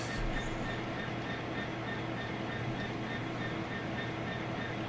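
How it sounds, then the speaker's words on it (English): Loud, steady diesel engine drone from an Isle of Wight Island Line train in Train Sim World 3, with a constant low hum and rumble that persists unbroken throughout. "Got a big racket, this train."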